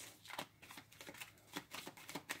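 Cards from a Clue board game are shuffled up close, with quick riffling bursts repeated in an uneven rhythm, faint and alone.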